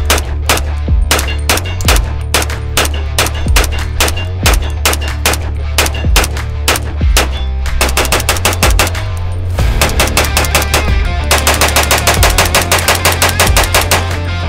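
Rapid gunfire from a cheap pistol with an adjustable gas block at a shooting range, loud sharp shots in quick strings and bursts with short pauses, close and continuous throughout.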